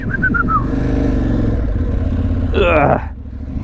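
An Aprilia Tuareg Rally 2025 motorcycle accelerates on a dirt track at wide-open throttle, a loud engine roar rising under a person talking, then dropping away near the end.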